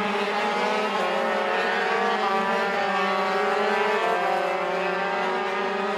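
Racing karts in a kart race at Mizunami, a constant high buzzing engine drone with overlapping tones shifting in pitch as several machines run on the track, loud and steady without a break.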